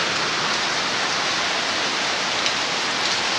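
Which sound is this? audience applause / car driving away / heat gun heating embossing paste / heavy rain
heavy rain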